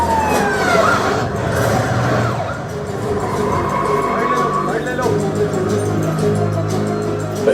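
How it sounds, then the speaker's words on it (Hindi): An approaching police car siren wails with rising and falling tones over steady traffic rumble and background noise, staying fairly loud throughout. "पुलिस की गाड़ी आ रही है"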